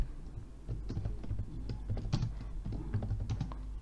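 Quick, uneven clicking of a computer keyboard as someone types, a dense run of close, moderately loud keystrokes with short pauses and no voice over it.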